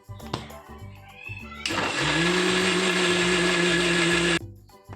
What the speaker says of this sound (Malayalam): ഇനി നമ്മളിലോട്ട് പാലൊഴിക്കുകയാണ് ദെൻ മിക്സിയിൽ അടിക്കുക